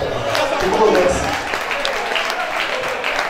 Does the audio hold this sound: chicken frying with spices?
no